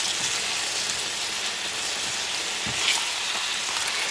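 Steak frying in a pan for a Puerto Rican-style steak sandwich with onions, a constant close sizzle and crackle holding steady throughout, with a few faint clicks of a utensil.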